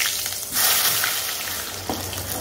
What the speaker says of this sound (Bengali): এবার বেগুন ভাজবো।